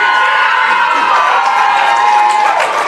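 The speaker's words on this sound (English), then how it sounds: "Crowd approves." Heavyweight MMA event crowd roaring for a fighter's win in the cage, a dense sustained wash of cheering and shouting from a large arena audience, loud and continuous.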